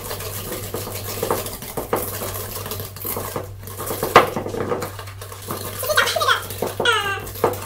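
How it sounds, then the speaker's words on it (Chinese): Eggs, butter, sugar and salt mixed in a steel bowl for banana chocolate chip cookie dough, giving steady scraping and clinking of utensil against metal. A faint low hum runs underneath throughout, with a few sharper knocks along the way. "接下来就是把蛋跟奶油和糖啊盐啊去把它搅拌均匀"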